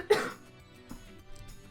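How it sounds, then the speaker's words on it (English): A single sharp cough bursts out near the start, followed by quieter rustling and a faint second throaty sound; close and brief. "I need a cough again"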